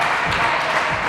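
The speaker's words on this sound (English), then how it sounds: "The Echidnas crowd getting behind them." A local crowd applauds and cheers the home Echidnas women's volleyball team at a friendly match. The clapping is a dense, steady wash that sounds fairly close and loud.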